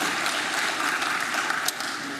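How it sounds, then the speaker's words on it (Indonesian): Audience applause at the opening ceremony of a capital market summit and expo, a dense, even hiss of many hands clapping throughout, fairly loud and continuous. "Tentunya ini merupakan tepuk tangan buat kita semuanya"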